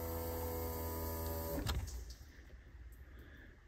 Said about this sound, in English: So now when I push down on this, it supplies power to the fuel pump.